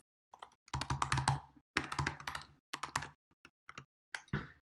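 Brisk typing on a computer keyboard into a form field, close and clear, in rapid clusters of keystrokes separated by short pauses, with a few isolated taps near the end.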